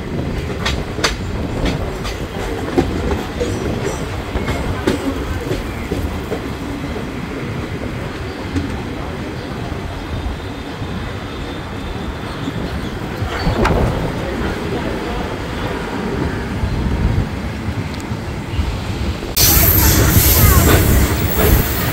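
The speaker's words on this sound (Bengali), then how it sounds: "ট্রেন আমাদের দক্ষিণেশ্বর থেকে ছাড়লো।" A Kolkata–Digha special fare passenger train pulls out of Dakshineswar station, with a loud continuous rumble, wheel clatter and occasional squeal heard from inside a general class coach, and voices murmuring beneath the rail noise.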